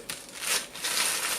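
A head of cabbage for kimchi is cut and then torn open by hand, giving a close, crisp crinkling and ripping of leaves in two short bursts.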